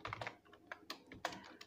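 Close, crisp clicks of a computer keyboard as C code is typed, landing in quick irregular bursts with brief pauses between them and no voices.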